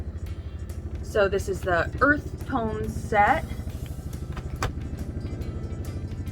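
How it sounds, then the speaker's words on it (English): Low, steady rotor rumble and engine drone of a helicopter flying low overhead run throughout, with a person talking over it in the foreground. "there is a helicopter flying overhead very close to my house."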